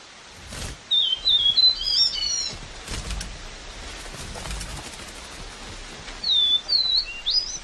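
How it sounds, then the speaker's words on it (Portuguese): Small birds sing in two bursts of high, thin chirps and quick whistled trills, clear and fairly close, with quiet rustling ambience between the phrases. "Os pássaros Xinxin estão cantando uma canção auspiciosa."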